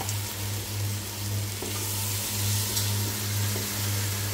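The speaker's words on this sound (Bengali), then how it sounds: "তো আমরা এখন মশলাটা ভালো মতো কষায় নিব।" Ground spice paste frying and being stirred in a pan for a Bengali duck curry (hash bhuna), giving a steady close sizzle and hiss over a low constant hum with no talking.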